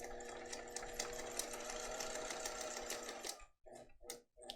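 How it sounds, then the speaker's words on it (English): A sewing machine stitches along a seam line on a fabric case, a steady fast whirring run of about three seconds that then stops and restarts in two short bursts. "I'm going to sew right on that line again."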